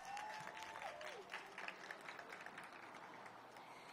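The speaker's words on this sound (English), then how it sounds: "Let's give a round of applause for that." A crowd at an outdoor street naming ceremony at Howard University claps in a steady, fairly distant round of applause that gradually thins out.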